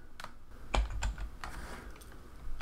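Someone types on a computer keyboard into a web browser, a short quiet burst of several uneven key clicks and thumps, close and without speech.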